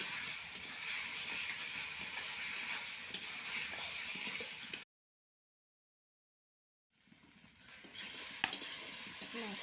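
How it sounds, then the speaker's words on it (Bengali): Chicken fries in a pan with a steady bright sizzle and occasional stirring clicks, close by, broken by a two-second silent gap before the sizzling resumes. "এখন দিয়ে দেবো চিকেন।"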